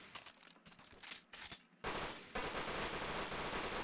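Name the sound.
gunfire in a shooter video game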